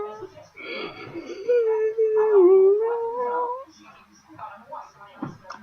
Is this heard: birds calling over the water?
no